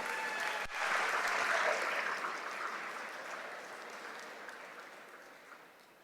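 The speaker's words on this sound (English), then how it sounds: "Ladies and gentlemen, give yourselves a great big round of applause." Applause from a charity event audience, a dense wash of clapping that swells early, then slowly thins and fades toward the end.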